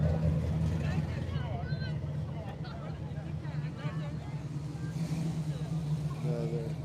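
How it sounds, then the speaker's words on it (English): A car passing in an MLK Day parade, a steady engine rumble close by, with crowd noise and voices throughout. "Another car coming by."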